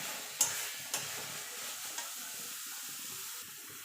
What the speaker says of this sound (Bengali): কাঁচা সর্ষের তেল এবার ভালো করে নেড়ে নেবো